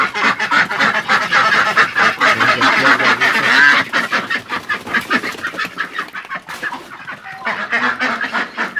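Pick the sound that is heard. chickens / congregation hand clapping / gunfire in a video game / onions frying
chickens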